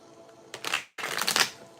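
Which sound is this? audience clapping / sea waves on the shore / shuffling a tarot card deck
shuffling a tarot card deck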